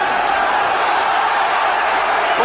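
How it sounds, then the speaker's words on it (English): A boxing-match crowd for Joe Bugner versus Danny Sutton roars steadily, a dense, continuous, loud wash of cheering with no breaks. "The crowd cheering the American on"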